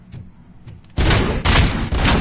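Heavy gunfire in a RoboCop: Rogue City shootout, loud sustained bursts of rapid shots in three blocks after a quieter opening second, with no talking.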